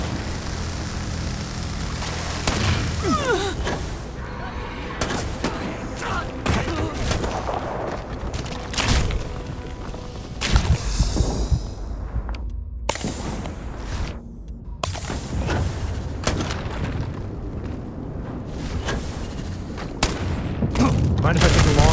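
Starfield combat with a rapid fusillade of gunshots and booming impacts throughout a chaotic firefight, loud and continuous, while voices shout under the shooting.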